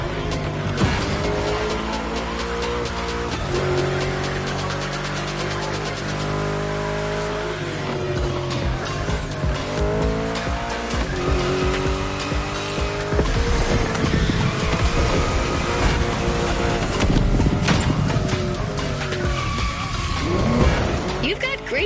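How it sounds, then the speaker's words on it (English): A car drifts in a video game, with engine roar rising and falling over continuous tire squeal and skidding, loud and sustained throughout, while a voice talks over it. "That's right, keep drifting."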